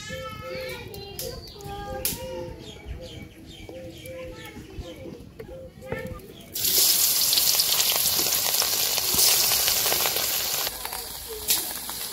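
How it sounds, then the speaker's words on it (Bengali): Hilsa fish fry in oil in a village kitchen wok, seasoned with salt and turmeric, giving a dense close sizzle that swells loud in the second half, with children's voices and birds in the background. "প্রথমে একটু ভাইজা নিব"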